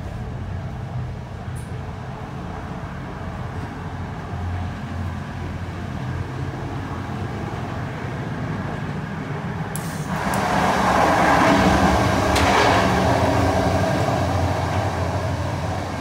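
Inside a moving Eurocity passenger train, a continuous low rumble of wheels and carriage runs with faint rattles. Partway through it swells louder and rougher, with no voices.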